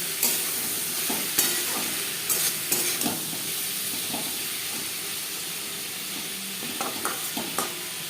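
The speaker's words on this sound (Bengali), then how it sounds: "পেঁয়াজের সাথে টমেটো বেশ ভালো করে মিক্স করে দেবো" Onions and tomatoes seasoned with salt and turmeric sizzle steadily in hot oil in a pan for a spicy tilapia fish curry, with the spoon scraping and clinking through the mix at irregular intervals, close and continuous.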